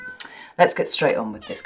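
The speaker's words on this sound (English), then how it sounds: "Sorry about the noise. My cat is outside." A cat meows from outside a house, heard over a person speaking close by.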